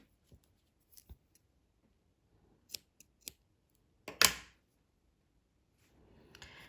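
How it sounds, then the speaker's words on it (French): Scissors snip through dark pink crochet yarn in a quiet room, a few light clicks followed by one louder, sharper cut near the end, with faint handling noise after. "Mon fil rose foncé, je vais pouvoir le couper."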